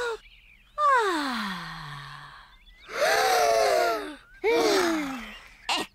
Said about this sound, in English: Breathe in the wonderful fresh air